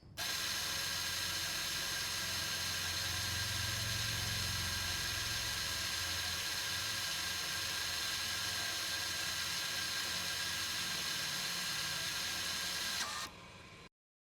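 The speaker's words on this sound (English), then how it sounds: "The parking brake is now in service position." A Volvo electronic parking brake motor moves to its service position, giving a steady, fairly faint mechanical whir that runs unbroken for about thirteen seconds before cutting off abruptly.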